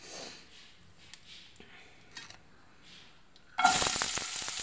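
Asafoetida dropped into two spoons of hot desi ghee bursts into a loud, close sizzle that erupts suddenly after a few quiet seconds of faint stirring clinks, then crackles on steadily to the end.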